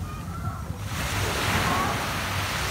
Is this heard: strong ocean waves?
yes